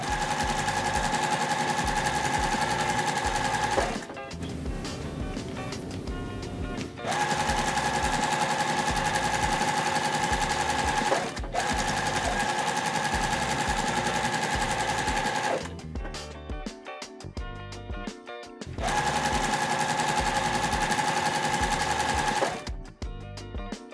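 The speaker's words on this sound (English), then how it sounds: "I'm gonna take all these, I'm gonna sew them together to show you what the final block looks like" A sewing machine stitches quilt blocks together in loud, steady bursts of rapid needle hum, broken by short pauses between seams; no one speaks.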